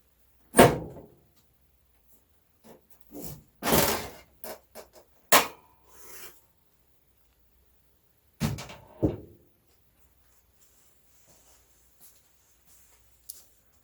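The side cover of a computer hard drive is pried and pulled off, giving a few sharp metallic clicks and scrapes in short bursts separated by quiet pauses, close and without talking.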